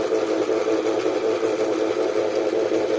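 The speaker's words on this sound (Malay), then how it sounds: "Tenaga kinetik ini dipindahkan melalui rantai dan puli untuk memutar roda belakang." An electric motor on a regenerative braking model drives the rear wheel through a chain and pulley, giving a steady, loud, continuous whirring hum with no pauses.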